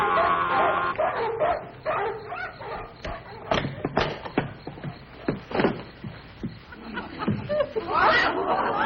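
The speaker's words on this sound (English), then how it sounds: "They've got barking dogs." Dogs barking next door in a 1950s sitcom scene, a series of sharp, repeated barks and yips coming in bursts, mixed with laughter and talking.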